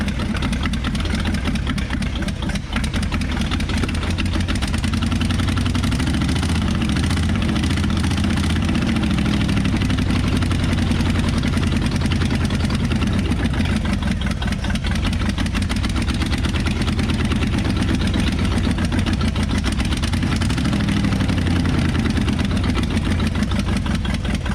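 A 1960 Chevrolet Impala four-door hardtop, revived after sitting abandoned for 38 years, idles steadily with a low rumbling engine note that holds close and loud throughout, with no talk over it.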